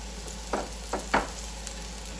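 Mushrooms frying in a pan alongside bacon, with a continuous sizzle broken by three quick bursts of stirring or pan scraping close by.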